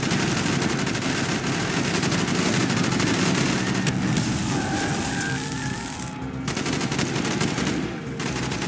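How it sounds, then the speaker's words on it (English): Sustained automatic gunfire from a Chronicle of War street battle, loud and continuous with dense overlapping bursts and a brief dip near the end, with no voices. "Bowman, Carlos, lay down covering fire."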